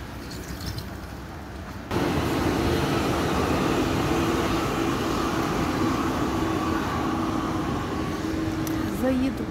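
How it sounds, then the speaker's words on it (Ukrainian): A steady, rumbling rolling noise starts suddenly and holds as a tram passes close by in Zurich, with a faint squeal near the end. "Трамвайчик четвертий."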